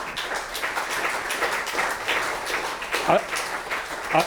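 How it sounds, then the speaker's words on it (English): Audience at a book event gives a round of applause, a dense, moderately loud wash of clapping with a few louder claps and voices mixed in beneath. "can I just have a round of applause for those three people"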